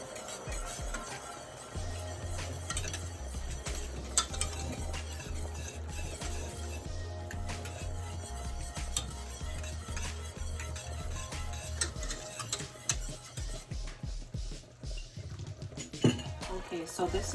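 Flour and water being stirred to thicken a honey BBQ sauce, light repeated clinks and scrapes of a utensil against a bowl or pot, fairly close, with some faint talk and kitchen noise.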